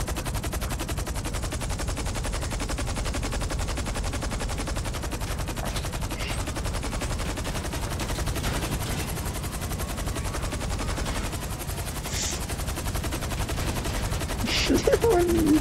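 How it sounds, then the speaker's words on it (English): Rapid weapon fire from an air vehicle in GTA 5, a dense, continuous mechanical rattle of shots running loud and unbroken, with brief faint voices near the end. "I'm evading your laser beams. Firing my laser."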